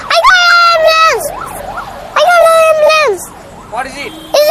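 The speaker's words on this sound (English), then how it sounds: "I got an ambulance!" An ambulance siren wails loud and close, in repeated rising and falling sweeps with pauses between bursts, as it passes by on the street.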